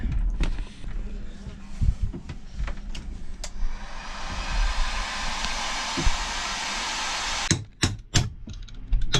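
A heat gun warming a boat keel, a steady blowing hiss that builds in the middle, with scattered clanks and knocks, then sharp metallic bangs near the end.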